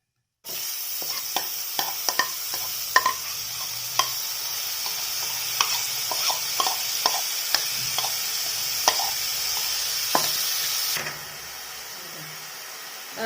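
Stinkvine leaves stirred into fish in a pan over a low flame, a steady close sizzle with repeated scraping and stirring clicks for about ten seconds before the frying noise cuts off.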